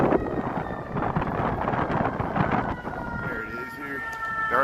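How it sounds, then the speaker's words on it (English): Fire truck and emergency vehicle sirens wail in a city near the Prudential building, rising and falling through wind noise and a busy crowd, with people talking nearby. "Come some more sirens."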